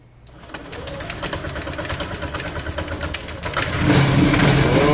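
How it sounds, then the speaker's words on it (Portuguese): A 2021 Yamaha Nmax 160 scooter with a faulty rocker arm cranks and catches, then runs with a rapid ticking, clattering idle that swells louder toward the end, close by. "Vamos ver agora se a moto vai funcionar, né?"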